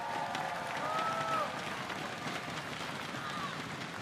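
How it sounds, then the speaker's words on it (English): An audience at a university alumni rally applauds its alumni volunteers, a broad, continuous crowd clapping that swells slightly early on and then holds steady, with faint cheering mixed into the hall's ambience. "How about a round of applause for all of our alumni volunteers?"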